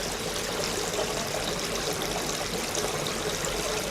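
Steady, soft trickle and splash of water dispersing from a pond spray bar into a small fry pond, continuous and even throughout with no voices.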